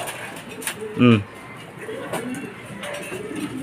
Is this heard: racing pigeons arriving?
yes